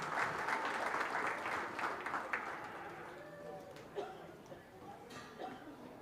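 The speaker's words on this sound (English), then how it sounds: "give these exhibitors a nice round of applause" An audience at a county fair open beef show gives exhibitors a round of applause, a strong burst of clapping that gradually fades, with a few voices and a raised call over the crowd.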